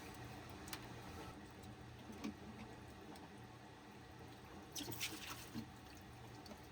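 Fuel being poured out into containers aboard a boat at anchor, a faint continuous trickle with scattered soft splashes and clinks against a low steady hum.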